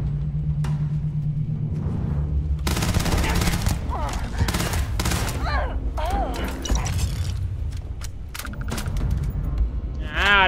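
Gunfire in Starfield, a first-person sci-fi shooter, crackles in rapid bursts and volleys through the middle of the stretch over a steady low game rumble, with mechanical clanks and occasional whooshing effects.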